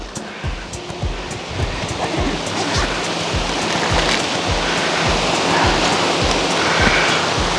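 Ocean surf on the coast near Muscat during a coastal trek makes a steady, loud wash of waves, with regular low thumps running underneath.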